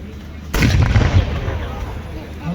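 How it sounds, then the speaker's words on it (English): A 2-pounder anti-tank gun fires once at a tank day at Bovington, giving a single sharp, loud blast whose rumble dies away over about two seconds. "That's the 2-pounder."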